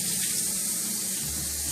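Cool water runs steadily from a kitchen tap as fresh peppers are rinsed before roasting, a soft continuous hiss and splash with no talking.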